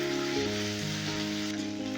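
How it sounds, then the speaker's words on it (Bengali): Ginger and green chilli are frying in a pan for sabu khichuri, giving a steady, soft hiss of oil. A low hum sits beneath the sizzle, with no talking. "এবারে আদা কাঁচা লঙ্কাটাকে ভালো করে কষিয়ে নেব যতক্ষণ না আদার কাঁচা গন্ধটা যাচ্ছে ততক্ষণ আমি ভাজতে থাকবো"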